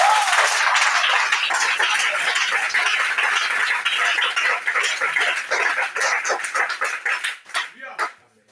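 A church congregation claps loudly and steadily throughout, mixed with a preacher's voice speaking in French, until the clapping thins into a few scattered claps near the end.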